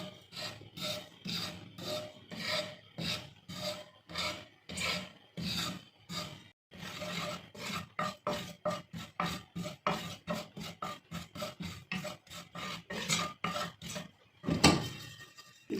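Dahi bhalla batter with chilli is mixed by hand in steady, rhythmic rubbing strokes, each one a close, raspy scrape, repeated dozens of times and ending in a louder final stir.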